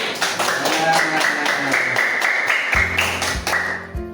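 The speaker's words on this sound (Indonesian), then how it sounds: "tepuk tangan dulu" Clapping hands from a group in an Indonesian classroom teaching assessment, a quick patter of claps under a sustained tone and voices, fading near the end.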